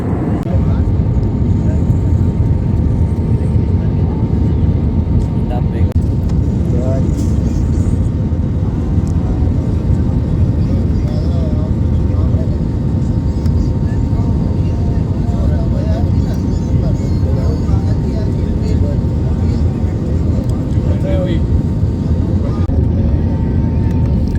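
Loud, constant roar of an airplane cabin in flight, a steady engine drone filling the background throughout.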